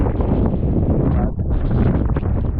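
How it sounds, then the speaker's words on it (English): Strong gusty wind buffeting the microphone on an exposed Lake District fell, a loud continuous roar with brief dips, nobody speaking. "here's those 50-mile-an-hour winds they were saying are coming today anyway"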